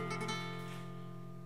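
A repeated soleá tremolo phrase on flamenco guitar, close and steady, with sustained ringing notes and rapid plucked attacks early on, played alone without speech.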